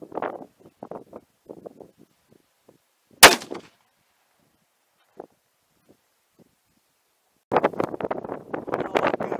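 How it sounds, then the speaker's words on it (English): A single sharp, loud report from a 22-250 Remington Model 700 BDL rifle cracks out in open country, aimed at rock chucks about 200 yards away. Quiet wind-buffeted handling noises come before and after the shot. "Let's see if I'm good enough at about 200 yards to shoot the head off."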